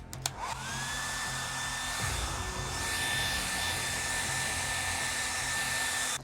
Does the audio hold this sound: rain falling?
no